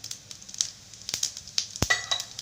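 Cumin seeds crackle and sizzle in hot oil in a pan, heard as faint, irregular pops and hissing bursts at close range with no voices.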